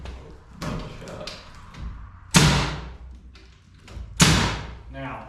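Nail gun firing nails into wall and closet framing, two loud sharp shots about two seconds apart, with quieter knocks and handling sounds between them.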